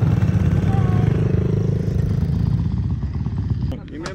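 A pit bike engine drones loud and steady at close range while riding in second gear on a track, then eases off near the end, with people talking over it.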